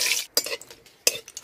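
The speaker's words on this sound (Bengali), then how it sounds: "তেল গরম হয়ে গেছে, ফোড়ন দিয়ে দিব। তেজপাতা, শুকনা মরিচ, তেজপাতা শুকনা মরিচ একটু হালকা ভাজা নিই।" Bay leaves and dried red chillies fry in hot oil as a tempering, with soft sizzle and a few sharp spoon-against-pan stirring clacks in short bursts, close and alone.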